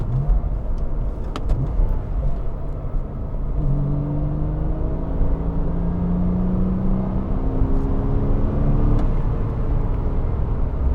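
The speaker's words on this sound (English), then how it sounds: "and that raspy sounding engine, it is such a gem" A Porsche Boxster 986 mid-engine sports car rumbles and then climbs through the revs as it accelerates, with a raspy, rising tone heard from close by inside the car.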